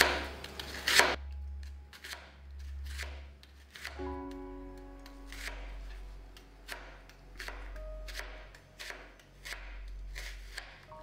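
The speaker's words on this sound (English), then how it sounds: "So we cut the onions, slice it very finely." A Damascus kitchen knife slices onions finely on a board, giving a quick series of crisp, close, evenly spaced cuts that continue in a steady rhythm against a low background hum.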